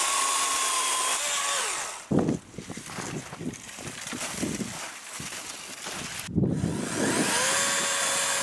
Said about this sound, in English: you wouldn't think battery power is good for a chainsaw